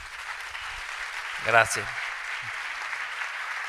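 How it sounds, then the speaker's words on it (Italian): An audience at a live talk event applauds with steady, dense clapping throughout, while a voice briefly cuts in partway. "un altro grande applauso"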